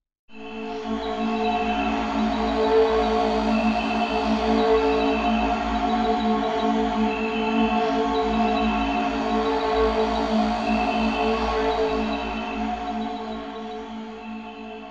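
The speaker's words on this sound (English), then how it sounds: "It's really meant to be some sort of atmosphere, like shamanic atmosphere." A shamanic atmosphere soundscape named Valerian from the Pigments sound bank, with shamanic voices: a sustained, dense drone of layered tones and airy shimmer, steady and enveloping throughout, fading slightly near the end, no speech.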